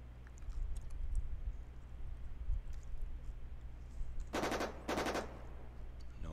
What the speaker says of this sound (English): And we're going to fire the coax machine gun.